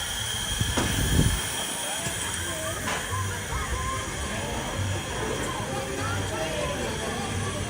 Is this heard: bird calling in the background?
no